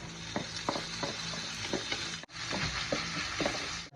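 Ground beef frying with onion and garlic in a pan, a steady loud sizzle with repeated stirring scrapes, close up and without talk.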